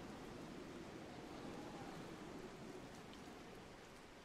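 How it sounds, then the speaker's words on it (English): Heavy rain pours steadily in the Pirates of Pangea video game, a dense, continuous hiss that stays loud and even throughout with no voices over it. "It is pouring down rain."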